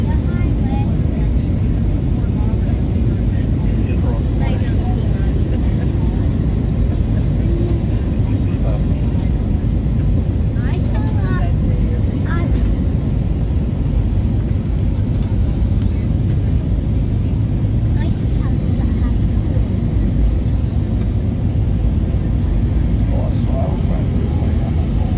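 Steady cabin drone inside an Allegiant Airlines airliner as it banks to line up with the runway on approach to Akron-Canton, a constant engine and airflow roar running throughout, with a person talking over it.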